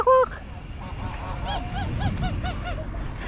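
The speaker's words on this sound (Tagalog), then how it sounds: "May mga gansa dyan eh, tsaka itik eh." Geese and ducks by the corniche waterfront give a loud single honk, then a run of rhythmic nasal honks and calls at close range over low background rumble.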